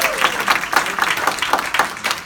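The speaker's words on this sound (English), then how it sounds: "Round of applause for Hector." Brief applause from a room of real estate agents at an office gathering, a small crowd clapping with uneven pulsing bursts, fairly close.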